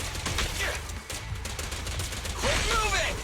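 Bursts of gunfire in a PS5 desert action game, rapid shots crackling amid other game sounds and a rising whoosh, with a voice shouting in between.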